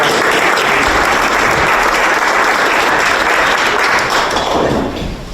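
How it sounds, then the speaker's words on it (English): A breakfast event audience gives a loud, sustained round of applause, dense clapping from many hands that holds steady and then starts to taper off near the end. "So let's give them a round of applause."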